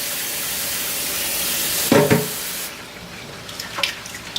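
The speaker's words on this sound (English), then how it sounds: "And now we're ready to add water. Just a little water, just a little bit." Water pours from a tap into a pot of seasoned chicken for jollof rice, a short, loud splashing burst followed by quieter trickles and a faint sizzle.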